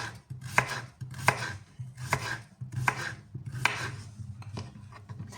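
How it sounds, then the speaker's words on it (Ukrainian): A knife cutting vegetables into thin julienne strips for a salad, rhythmic bursts of chopping and slicing against a board, roughly one stroke every second or so, close and clear with no talking. "Все буду різати отак от соломкою"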